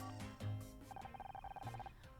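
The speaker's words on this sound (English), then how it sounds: "1 second, I think that's my phone." A phone rings in the video game Murder by Numbers, a short electronic ringtone trilling in quick repeated pulses for about a second, faint under background game music.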